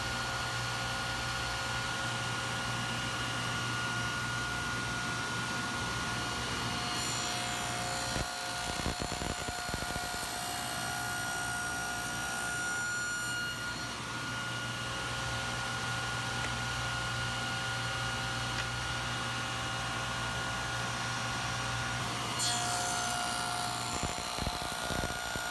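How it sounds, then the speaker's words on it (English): A saw with a dado blade cuts a tall dado in a wood board for an interlocking wall shelf with box joints and half laps. A steady, loud, droning whine runs throughout, with a brief rougher patch partway and no speech. "This is a pretty tall dado cut, and you want to make sure that that board is held very securely."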